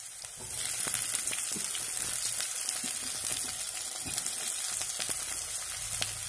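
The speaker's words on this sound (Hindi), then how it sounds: "अभी हम इसमें डाल रहे हैं कटा हुआ लहसुन और अदरक, इसको हल्का सा ब्राउन होने देंगे।" Chopped garlic and ginger fry in hot oil in a pan, giving a steady close hissing sizzle with faint crackles throughout, no speech.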